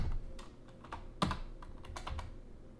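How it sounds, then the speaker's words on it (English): Code typed on a computer keyboard, a quiet run of irregular key clicks with one sharper press, close and alone without speech. "And then inside here, type SDL underscore init underscore everything."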